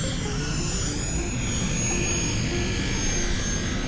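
An airplane drones steadily in a continuous, broad rumble with a faint high whine, heard at a distance and unbroken throughout.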